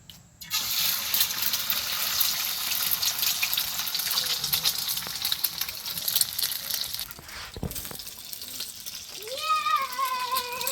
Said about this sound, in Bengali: প্রথমে একটা ডিম ভেজে নিতে হবে, তো আমি ডিমটা ভেজে নিব